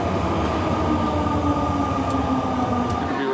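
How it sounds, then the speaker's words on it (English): A passenger train travels from Tokyo toward Kesennuma in Japan, a loud steady rumble of the railcar from inside with a faint rising whine, no voices heard. "I'm going to be riding this train up to Kesennuma"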